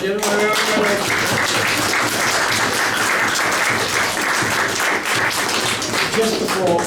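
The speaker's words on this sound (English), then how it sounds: "Just before you applaud, I think we need to acknowledge why they are applauding" An audience at a lecture on democracy versus autocracy breaks into sustained, loud applause, a dense even wash of clapping lasting several seconds, with a faint voice underneath.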